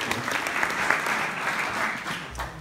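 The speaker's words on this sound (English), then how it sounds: "let's have a round of applause for Carrie." A gathering at a memorial breaks into a warm round of applause, many hands clapping together at a steady level before it begins to taper off.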